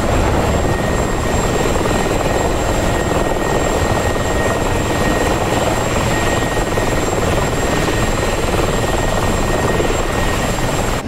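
Military helicopters fly in a DCS combat flight simulator, a loud, unbroken rotor and turbine roar that stays constant and close throughout.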